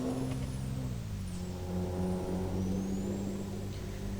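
A Peterbilt 389 truck's engine droning in Euro Truck Simulator 2, a steady low harmonic rumble that shifts pitch slightly as the rig drives, heard alone and clearly close.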